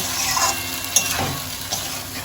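A spice paste thinned with water sizzling in a pan, with a soft bubbling fry and a couple of brief stirring knocks, close and moderately quiet.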